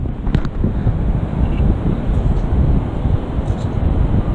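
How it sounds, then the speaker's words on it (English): Strong wind on a beach with big waves buffets the microphone in a constant low roar, with faint scattered clicks and rustles on top. "Bear with me, the wind's blowing."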